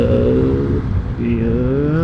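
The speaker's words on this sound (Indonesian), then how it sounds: "Nah, truk lagi guys." A truck on a road passing close to a touring motorcycle on an Indonesian highway at night, a loud steady engine drone with a shifting tone under constant road and wind noise.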